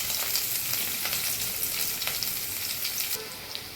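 Onions and green chillies frying in a pan for a biryani, a continuous close sizzle with faint stirring clicks, no voices.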